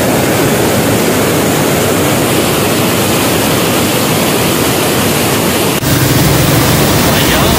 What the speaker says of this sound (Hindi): पानी की आवाज जो है बहुत ज्यादा, पानी का बहाव भी जो है बहुत ज्यादा है